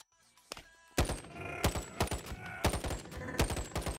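CR-56 rifle from a Boneworks VR game mod firing several loud, close bursts of gunfire with short gaps between the volleys.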